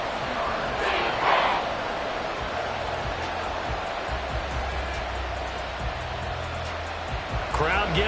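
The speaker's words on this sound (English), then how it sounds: "Crowd getting in it a bit already." Stadium crowd noise in a Vikings versus Chiefs football video game, a steady distant rumble of fans that rises briefly, heard under commentary.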